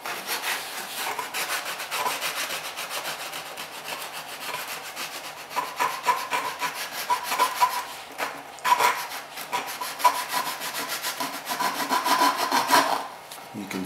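A small sculpting tool scrapes across the plied wood back of a Bruno Ventura guitar, making close, repeated rasping strokes in an irregular rhythm, growing busier and louder toward the end with no speech.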